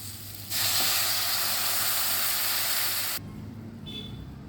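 Hot water is poured into a pan of sizzling spice masala (garam masala, red masala, turmeric, coriander powder) and sets off a sudden loud, broad hiss. The hiss holds steady for about three seconds, then cuts off to a quieter background.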